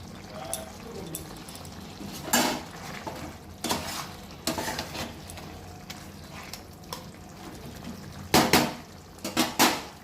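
Chilli fish is tossed and stirred in a pan, with a low frying hiss under sharp intermittent scrapes and clanks of a spatula against metal, close by, with bursts of stirring clustered near the end.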